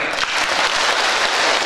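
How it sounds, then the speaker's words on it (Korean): An audience at a Parents' Day ceremony for elders in Yeongdeungpo, Seoul, claps in steady, dense applause that fills the hall at full volume throughout. "다시 한번 큰 박수 부탁드립니다"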